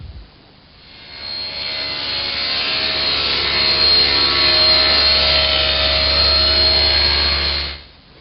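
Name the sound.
homemade panel cutter cutting strip from sheet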